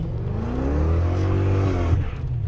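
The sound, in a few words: car wheels spinning while accelerating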